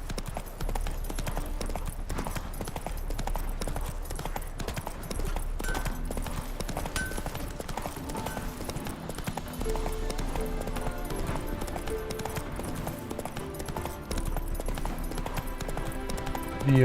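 In The Witcher 3: Wild Hunt, the horse's hooves gallop in a continuous fast clip-clop, loud and steady throughout, with game sounds beneath.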